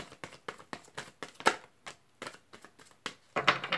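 Tarot cards riffled and shuffled by hand in a quiet room, giving a run of brisk, close papery flicks and snaps at an uneven rhythm that ends in a denser burst of shuffling.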